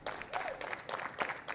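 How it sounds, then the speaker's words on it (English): Stadium announcement crowd in Los Angeles breaking into scattered, moderate applause that stays steady throughout, with a faint voice briefly audible underneath. "Go ahead, you can clap for that one, that's fantastic."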